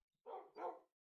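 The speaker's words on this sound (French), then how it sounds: "Les chiens, en fait, ça me sert strictement à rien, juste à aboyer." A dog in a video game barks twice in quick succession, short clear sounds against silence, alone with no talk.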